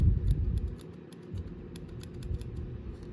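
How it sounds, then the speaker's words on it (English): Scissors snip through yarn while finishing a crochet coaster, a quick run of close, crisp clicks and blade cuts repeating several times over soft background noise. "And then I just cut it off as close as I can."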